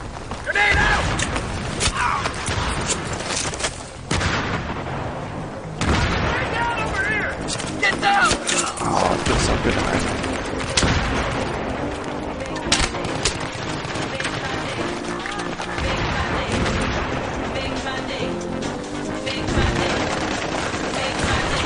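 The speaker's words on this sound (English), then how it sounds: "Grenade out!" Rapid gunfire and a grenade blast crackle through a first-person shooter match, dense bursts and bangs nearly continuous and loud, with a player's voice talking over the action.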